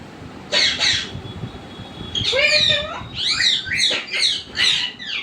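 A pet parrot gives loud, close, harsh squawking calls, a pair of short squawks followed by a run of rising, warbling shrieks, with no talking.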